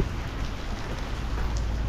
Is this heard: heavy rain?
yes